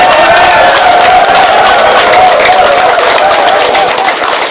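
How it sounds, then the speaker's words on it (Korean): At a campaign office opening in Yecheon County, South Korea, attended by about two thousand residents, a large crowd applauds in a loud, dense, continuous wash of clapping with a steady tone running underneath. "박수 한번 주시죠."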